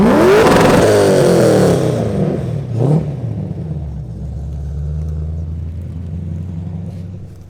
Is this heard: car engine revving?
yes